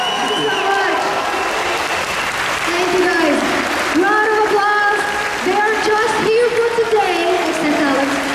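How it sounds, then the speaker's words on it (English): A crowd claps for the Vikings cast panel at German Comic Con. The applause is sustained and full, and a host speaks loudly over it. "Guys, I need a round of applause for Vikings!"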